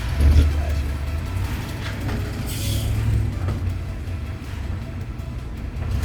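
A 400 big-block El Camino engine rumbles loudly and steadily throughout, with a deep low-end drone and slight swells in revving, close and continuous.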